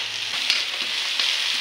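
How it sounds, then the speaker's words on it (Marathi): Onion tempering crackling in hot oil for a Konkan jackfruit bhaji, a loud, close, continuous hiss and sizzle with scattered small pops throughout and no talking. "पडलो आपलो कांदो फोडणी तडतडली"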